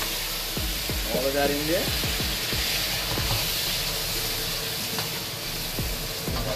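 Beef hits hot oil in a wok for a Jamaican stir fry, giving a steady, close, hissing sizzle with occasional clanks of a utensil, while a person speaks briefly over it.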